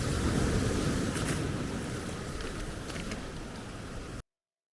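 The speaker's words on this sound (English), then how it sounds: "I'm presuming you can hear me over the sound of the waves." A steady hiss of surf washes over a beach at Thatcher's Rock at sunrise, a broad continuous rush of water that fades slightly before cutting off abruptly.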